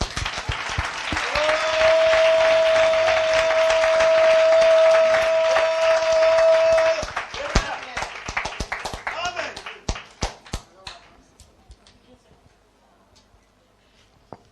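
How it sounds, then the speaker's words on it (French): A church congregation at a French-language service claps together, rhythmic and full at first over a long, steady held tone, then thins after about seven seconds into scattered, fading claps. "applaudissez le Seigneur"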